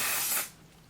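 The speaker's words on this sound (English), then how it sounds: "Waterproof, sweat-proof, transfer-proof, 16-hour mattifying setting spray sets your makeup with next level hold." A short, close burst of fine mist from a mattifying makeup setting spray hisses for under half a second, then fades to quiet.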